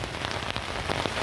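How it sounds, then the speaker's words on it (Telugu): Heavy rain pounds steadily on a tent during a storm on a mountain peak, a dense, continuous close-up patter with wind mixed in and no talking. "ఫుల్ గాలి వస్తుంది, ఫుల్ వర్షం వస్తుంది."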